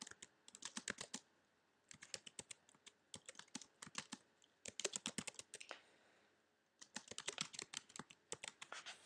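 Fingers type on a computer keyboard in quick, uneven bursts of close, crisp key clicks with short pauses between runs, quiet and alone.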